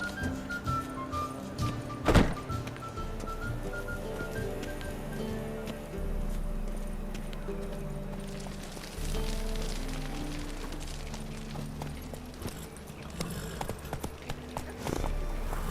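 A ridden horse's hooves clop at a steady walking rhythm in the fantasy game The Witcher 3, mid-distance under ambient game sound, with a sharp thunk partway through and a low rumbling bed.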